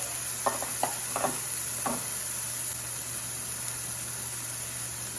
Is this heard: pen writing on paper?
no